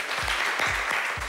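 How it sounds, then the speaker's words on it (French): A studio audience applauds during a French TV poker game show, with a short burst of steady, close clapping and no voices over it. "On l'applaudit."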